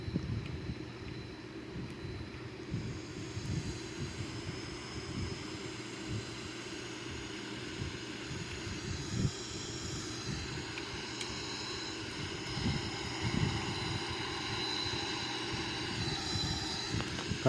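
Jet aircraft engine roaring in flight, heard from inside a Sukhoi Su-30 during an instrument approach and landing, a steady broadband rumble with wind noise that swells and eases slightly over seventeen seconds, no talking.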